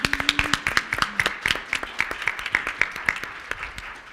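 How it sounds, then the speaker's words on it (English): A modest group claps for the West Virginia Teacher of the Year at an education event: distinct, fairly close hand claps in a quick, slightly uneven rhythm, sparse enough that individual claps stand out, with no talking. "Can we give her a round of applause for that?"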